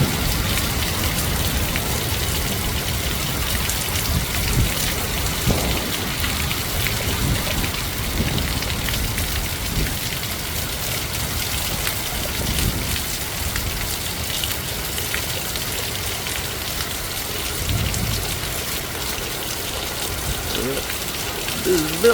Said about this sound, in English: The rain's coming off of it.